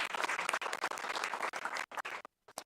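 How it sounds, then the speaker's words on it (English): At a school board meeting, a crowd applauds a student being recognized, with dense clapping that quickly dies down into a few scattered claps and brief silences near the end. "Give her a round of applause."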